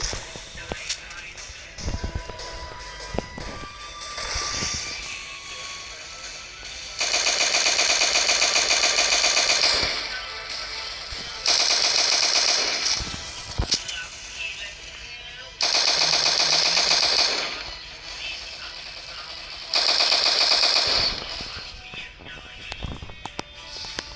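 Pistol gunfire in a video game crackles in several sustained rapid bursts of shots, loud and close, between quieter stretches of game sound, with a voice speaking over parts of it.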